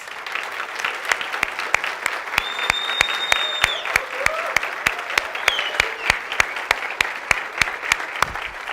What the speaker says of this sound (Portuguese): Agora sim podemos aplaudir os pais